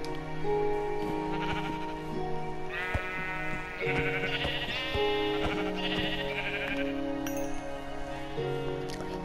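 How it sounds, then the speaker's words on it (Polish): Sheep bleat repeatedly in the video game Minecraft, several wavering calls at moderate distance over a soft looping background tune. "Jeszcze owieczki, tak coś przeczuwałem, że mi coś tam beczy"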